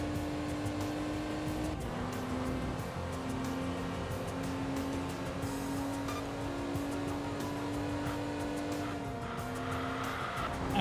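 A roughly 200-horsepower Caterham races in the Enthusia Professional Racing video game, its engine droning steadily with shifting pitch and tire squeal layered on top throughout, with no talk.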